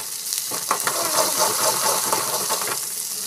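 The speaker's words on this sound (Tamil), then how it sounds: "எண்ணெய் வந்து பிரிஞ்சு வரணும். நல்லா வந்து ஃப்ரை ஆகணும்." Spices fry in oil in a pan, with asafoetida, turmeric powder and salt in the oil, giving a close, steady sizzle with scattered crackles and pops and no talking.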